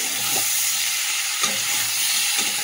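Leafy greens with dried and fresh green chillies fry in a pan, a continuous bright sizzle broken by scraping stirs roughly once a second, close up and without talking.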